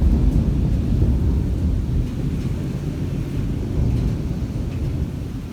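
Deep rolling thunder rumbles through a heavy thunderstorm, a steady loud low roar with wind and rain noise filling the whole stretch, no distinct separate claps.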